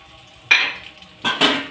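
Prawns being stirred and sautéed in a pan with turmeric and salt: two quick bursts of a utensil scraping and clinking against the pan, over a faint sizzle.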